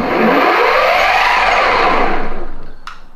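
Bioboards Plutonium electric skateboard's gear drive motor whines loud and steady with a broad rushing roar, then winds down near the end with a brief sharp click.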